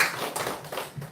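Church congregation clapping during a Sunday worship service, a short burst of scattered hand claps, fairly close and uneven, fading after about a second.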